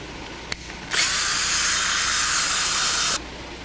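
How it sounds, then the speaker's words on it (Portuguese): A power driver with a Torx E8 bit loosens the four rear bearing screws on a starter motor, giving a small click and then one steady, loud whirring hiss for about two seconds before it stops. "Com a chave Torx E8, soltamos os 4 parafusos do mancal traseiro."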